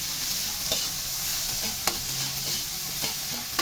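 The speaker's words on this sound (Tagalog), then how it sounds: "Lagay na natin sunod ang ampalaya." Bitter gourd stirred in a hot frying pan sizzles continuously, broken by sharp, irregular spatula scrapes and taps against the pan, close and fairly loud, with no voices.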